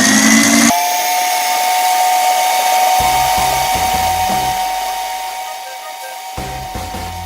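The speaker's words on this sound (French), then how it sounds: "Et puis on les met au batteur. Voilà, jusqu'à qu'il soit bien ferme, puissance maximum." A stand mixer whisks egg whites for chocolate mousse at maximum speed, giving a loud, steady motor whine with a sustained tone that runs alone throughout, with slight changes in pitch.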